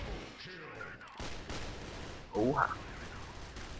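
Dual Uzi submachine guns firing in the online shooter game Crossfire: short bursts of rapid gunfire against quiet game ambience, with a brief spoken exclamation.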